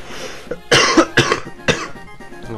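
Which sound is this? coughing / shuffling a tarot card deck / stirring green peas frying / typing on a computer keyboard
coughing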